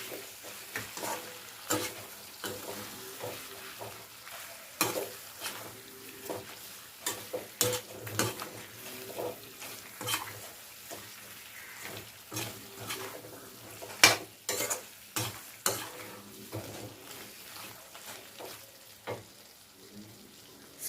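Chicken pepper fry being stirred with pepper powder in a pan, with an oily sizzle beneath repeated scraping and clinking of a spoon against the pan in an irregular rhythm, close and moderately loud.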